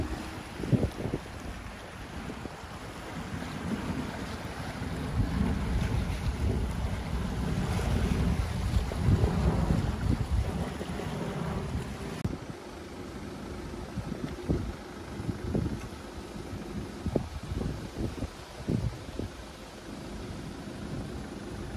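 Steady seaside roar of waves and gusting wind buffeting the microphone, continuous and fairly loud throughout with no talking.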